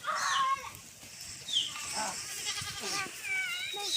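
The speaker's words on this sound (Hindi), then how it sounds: "हाँ बकरी," Goats bleat repeatedly in a hill farm setting in the Uttarakhand mountains, several overlapping calls close by and some farther off, with faint chickens in the background.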